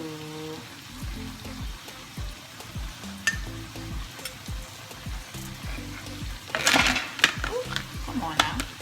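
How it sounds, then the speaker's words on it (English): Shrimp sizzle and fry in a pan as Alfredo sauce is poured in, a steady crackling hiss with scraping stirs and a louder burst of sizzle partway through, with music playing underneath. "Gonna add the Alfredo sauce."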